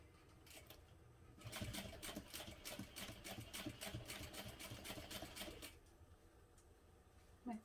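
A sewing machine stitches a tote bag in a quick, even burst of rapid mechanical clatter lasting about four seconds, preceded and followed by quieter handling noises and a short scrape at the end.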